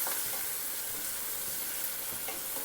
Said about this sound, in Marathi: आता आपण कांदा ना छान भाजून घ्यायचा आहे